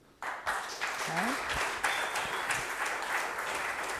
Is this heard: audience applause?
yes